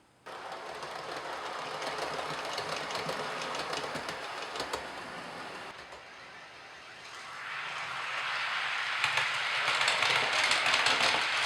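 A model train rolls along with a steady whirring hum and fine rail clicks, fading slightly midway and then growing louder as it pulls in.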